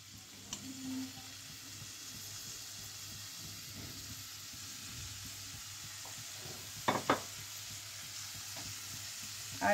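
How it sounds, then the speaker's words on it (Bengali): Fenugreek leaves fry in a pan with a low, steady sizzle, and a few brief scrapes and clinks come through near the end. "এবার দিয়ে দিচ্ছি মেথি"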